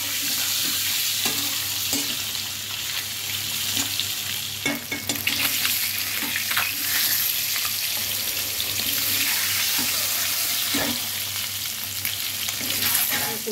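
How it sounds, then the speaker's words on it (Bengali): Eggs frying in a pan for a Bengali egg curry, a continuous bubbling sizzle with scattered spatula scrapes and clicks, close and fairly quiet, no talking. "ডিমটা ভেজে নিচ্ছি।"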